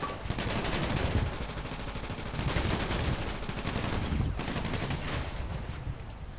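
Heavy gunfire rattles through a GTA 5 firefight, with rapid bursts of automatic shots and overlapping reports forming a continuous, loud barrage with no talking.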